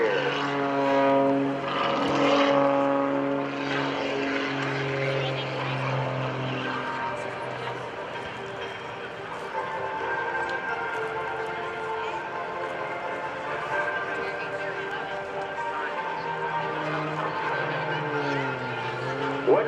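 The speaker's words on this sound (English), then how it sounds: "he is going to stand this aircraft on its tail and bring it to a hover in front of you." A Sean Tucker aerobatic propeller plane at a Rhode Island Air National Guard open house airshow, pulling into a tail-standing hover on partial power, its engine droning loud and steady with shifting harmonic pitch throughout, an announcer talking over it.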